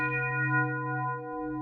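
A single sustained synthesized tone with a rich, bell-like harmonic timbre, holding steady and clear before fading slightly.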